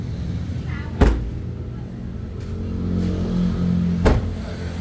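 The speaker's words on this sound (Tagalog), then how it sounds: "ito yung makina niya." A Toyota 4E-FE 16-valve 1300 engine idles steadily and loudly nearby, with two sharp knocks or clunks interrupting the continuous hum and a low voice briefly audible underneath.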